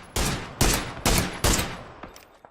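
Rifle fire in the video game PUBG, from a weapon more powerful than the SKS with heavy recoil: four loud, evenly spaced single shots with short decaying tails, followed by a faint trailing sound.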